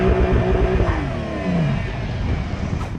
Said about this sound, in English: go down there and do some skids in a circle and warm up your tyres a little bit